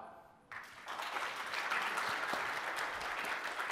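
Applause from a software conference audience at a Spring Framework talk, starting abruptly after a brief lull and holding as a dense, steady wash of many hands clapping, moderately loud in a large hall.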